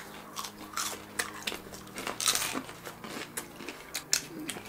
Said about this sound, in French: Il est plus croustillant, donc c'est ça du bon tender.